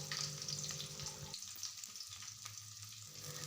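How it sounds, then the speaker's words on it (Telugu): Chopped onion with cumin seeds sizzles steadily in a pan for Andhra-style broad beans fry, a soft, continuous frying hiss with faint stirring, no voices. "ఇవి కూడా కొంచెం ఫ్రై అయిన తర్వాత ఇందులో ఒక ఉల్లిపాయని తీసుకొని కట్ చేసుకొని వేయండి"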